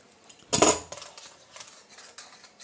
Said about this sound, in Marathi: तर हे असं छान मिक्स करून घेऊया